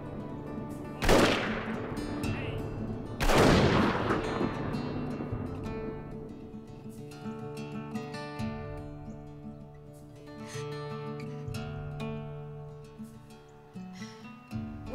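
Rifle volleys ring out at a military funeral salute, two loud sharp shots a couple of seconds apart each trailing a long echoing decay, with a sustained musical tone continuing underneath afterward.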